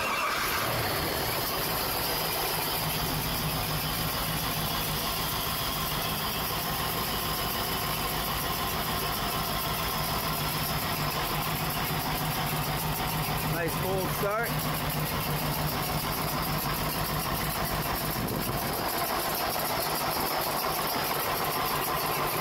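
The engine of a 1996 Fountain 27 Fever boat starts up and settles into a steady idle, humming at moderate volume, with brief clanks and rattles partway through.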